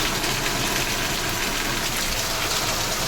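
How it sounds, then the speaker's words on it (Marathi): Heavy monsoon rain pours down steadily outside a shop, a dense, loud hiss of drops hitting surfaces with no pauses and no voices. "आणि पाऊस पण जाम जोरात झाला आहे बघा"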